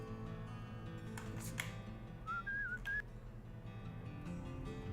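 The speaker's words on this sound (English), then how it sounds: "I'm gonna try to whistle the right tune." A short whistled phrase of a few rising and wavering notes sounds in the middle of video game Where the Water Tastes Like Wine, between some soft clicks and taps, fairly quiet and close.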